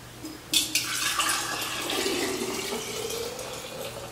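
Bone broth poured from a large container through into a bowl, a steady liquid splash that starts abruptly and continues as a close, moderately loud stream with no talking.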